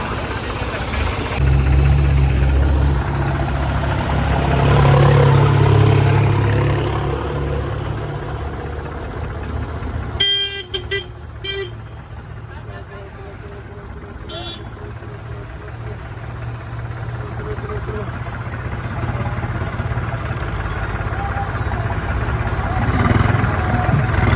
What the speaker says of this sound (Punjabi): ਪੰਜਾਬ ਦੇ ਸਾਰੇ ਟਰੈਕਟਰ ਆਪਣੇ ਆ ਗਏ ਆ